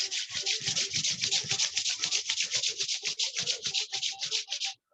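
Both palms rub briskly together, close and clear, in a quick repeated swishing rhythm of around twenty strokes before stopping abruptly.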